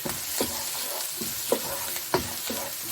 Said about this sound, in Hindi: इसे हम अब भूनेंगे 10 से 15 मिनट